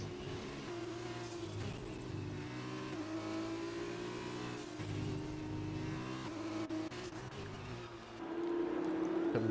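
Race cars in an Xbox F1 game at Suzuka roar continuously for several seconds, engines droning and revving through gear changes. The pitch rises to a louder, higher whine near the end, with no voices.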